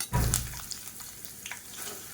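Chopped onions and green chillies sautéing in a pan with curry leaves for an egg curry, a brief burst of sizzling up close that settles into a steady low frying hiss.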